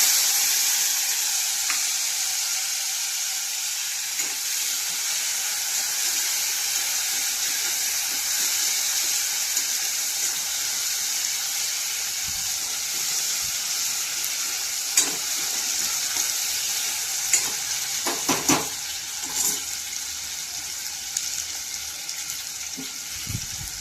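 Tomatoes frying in a hot tempering of cumin, asafoetida and curry leaves, making a steady close sizzle with occasional stirring clatter and small sharp pops, with no talking.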